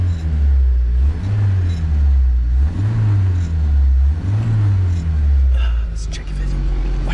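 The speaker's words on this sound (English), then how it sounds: "Engine's getting nicely warmed up." A 1983 Mitsubishi Colt with a 1.4L engine idles steadily as it warms up, a loud close low rumble with a slow rising and falling pulse roughly every one and a half seconds.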